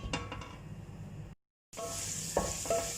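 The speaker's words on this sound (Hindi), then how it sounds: "जैसे ही हमारा लहसुन अदरक सौते हो जाएगा" Garlic and ginger sauté in a hot pan for a halwa puri and chole meal, a steady close sizzle with light stirring scrapes, briefly cut to silence before the frying resumes with a couple of sharper utensil clinks.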